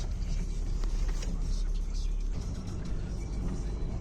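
A VW Golf 4 TDI, whose fault of bucking, smoking and shaking was fixed by replacing one injector, drives along with a steady, close diesel engine drone and road rumble, and a voice may be faintly present.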